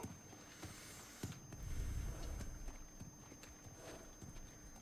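Hooves of a horse walking in the God of War video game, a steady clip-clop of spaced hoofbeats close by, with a low rumble swelling briefly in the middle and no talk.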